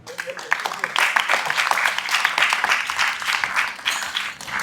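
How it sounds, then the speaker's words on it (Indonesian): A class of students claps together in a lively, continuous burst of applause, close and fairly loud, with scattered voices mixed into the clapping. "Tepuk tangan buat 19 orang."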